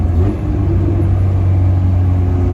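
A Honda car with an EF/DA chassis, recently converted from OBD0 to OBD1 and running with its check engine light on, rumbles loudly and steadily. A deep, constant engine drone is heard up close from inside or near the car.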